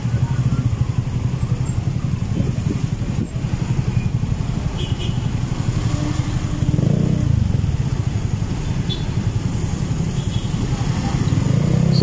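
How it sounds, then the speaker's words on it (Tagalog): Dense evening traffic in Metro Manila with many motorcycles packed together, a continuous loud rumble of idling and slowly moving engines close by, steady throughout with slight swells. "Dami pong mga motor po."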